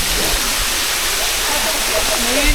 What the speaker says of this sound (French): on est parti voir une cascade.